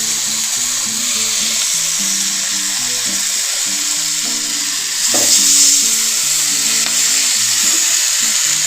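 Chicken tandoori sizzles steadily in a pan over full flame just after being flipped, a loud continuous frying hiss with a brief surge midway and faint tonal background hum, no talking.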